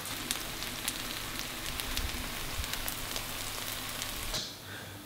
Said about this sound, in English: I can hear that sizzle already